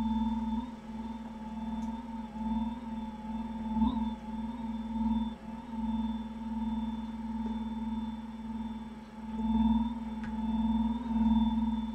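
Electronic interference picked up close to a modem, a steady droning hum with a constant high whine and faint warbling tones, holding at moderate level throughout without a break.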